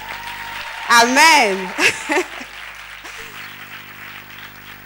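Applause from an audience at a televised karaoke singing contest, a steady crowd wash running under a voice that calls out loudly in the middle.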